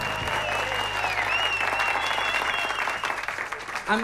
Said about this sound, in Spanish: Por favor, un aplauso para el maravilloso Halo Asimov.